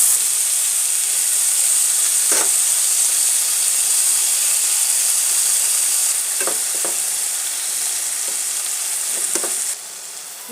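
Mola fish heads fry in hot oil with a steady, loud sizzle and hiss, punctuated by a few sharp pops and scrapes from stirring.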